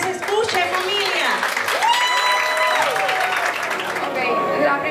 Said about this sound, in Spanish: Un fuerte aplauso, que se escuche, familia.